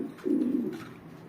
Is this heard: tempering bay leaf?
no